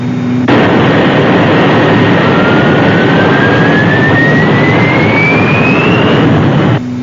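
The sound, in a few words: aircraft vertical jet engines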